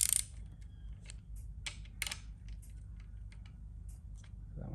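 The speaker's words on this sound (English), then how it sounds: "So I've got the little torque wrench here set up, so we'll tighten them up." Small torque wrench tightening two 8mm bolts on a Barra engine sump during oil pickup installation, giving a few sharp close mechanical clicks and ratchet ticks over a low workshop hum.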